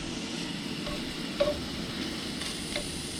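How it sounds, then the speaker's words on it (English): Potatoes and sausage fry together in one pan outdoors, giving a steady, even sizzle with a couple of faint ticks and clinks over it. "I'm going to try cooking both the potatoes and the sausage here in the same pan at the same time."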